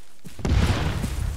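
A thrown charge goes off in Arma 3 with a single loud, deep boom after a short click, its low rumble rolling on and decaying for about a second.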